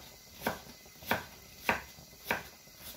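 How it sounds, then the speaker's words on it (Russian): An onion is sliced into half-rings with a knife on a cutting board in a home kitchen: four evenly spaced, crisp chops about half a second apart, close and fairly quiet, with no talking. "А это полукольцами так нарежу."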